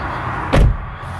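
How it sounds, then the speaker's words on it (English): Front passenger door of a 2022 Kia Carnival minivan closing with a single loud, deep, solid thunk, heard from inside the cabin with a brief muffled settle afterward. "Very solid sounding thunk when I close the door."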